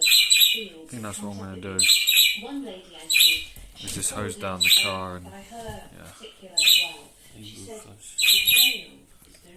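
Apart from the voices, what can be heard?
bird calling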